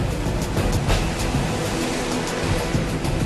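Ocean surf pounds and breaks in a dense, continuous roar during US Marine Recon training, close and loud with no voices over it.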